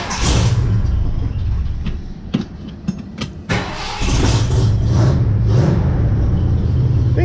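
A classic car engine with an automatic electric choke fitted starts up, then settles into a loud, steady idle close by. Brief bursts and revs come first, and someone talks over it.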